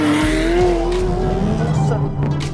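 A McLaren 570S engine revs and roars steadily with a rising, throaty tone on a race track in stormy weather, with a brief tire squeal and faint voices in the background.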